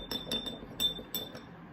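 A spoon taps and clinks against a glass of water while salt is dissolved: several bright, ringing strikes in quick uneven bursts, close and clear, with no talking.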